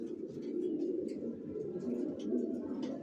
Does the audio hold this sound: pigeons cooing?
yes